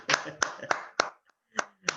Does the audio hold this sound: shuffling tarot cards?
no